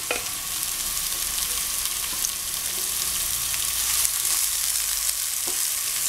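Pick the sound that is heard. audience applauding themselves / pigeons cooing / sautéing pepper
sautéing pepper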